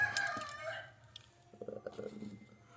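Native country chickens at a morning coop being opened: a rooster's crow rings out first, followed by softer clucking and scattered calls from the hens nearby.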